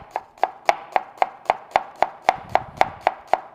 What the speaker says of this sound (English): So I'm gonna take a cheek, cut it in half, and then just cut it real thin.